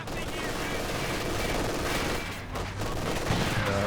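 Automatic LMG fire from Grenadier squads in a Company of Heroes 2 match, sustained dense bursts of gunfire with battlefield noise running the full length, loud and continuous with a brief dip midway.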